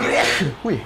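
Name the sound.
sneeze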